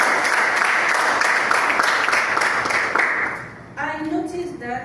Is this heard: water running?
no